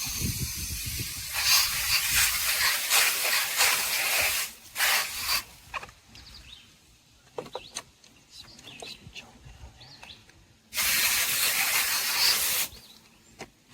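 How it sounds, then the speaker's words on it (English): Water rinsing a pool robot vacuum's sponge filter: two loud bursts of running, splashing water separated by quieter handling knocks and clatter, close by. "And then just rinse out the rest of it."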